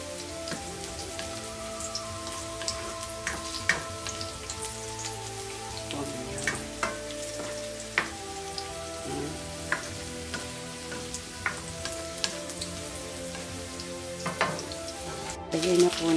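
Zucchini, green beans and bell pepper sautéing in a pan, a steady close sizzle with scattered crackles and pops over about sixteen seconds, with no talk.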